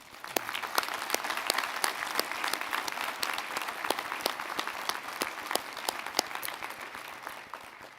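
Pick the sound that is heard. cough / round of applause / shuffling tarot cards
round of applause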